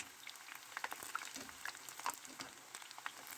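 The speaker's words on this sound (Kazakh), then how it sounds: "майға саламыз да қуырып аламыз" Steady crackling sizzle of baursak dough frying in hot oil, with scattered pops and spits throughout; fairly close and moderate in level, no voices.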